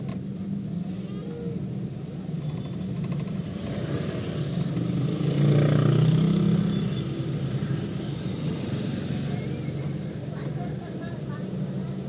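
Congested road traffic in Padalarang, West Bandung, with a steady broadband engine rumble that swells around the middle as a heavier vehicle passes close by, then settles back to a continuous drone beneath voices.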